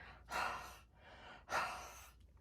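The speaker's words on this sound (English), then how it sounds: "I want to just breathe on it again" Two slow, deliberate breaths are huffed out close up onto a papercraft card layer while stamping a shimmery background, each a soft airy exhale about a second long with a short pause between them.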